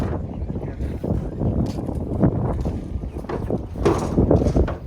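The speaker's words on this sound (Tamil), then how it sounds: "காற்று பயங்கரமாக அடிக்குது" Strong wind buffets an outdoor spot near a toddy shop, a loud, steady rush with gusty swells and rumbling microphone noise throughout, no voices on top.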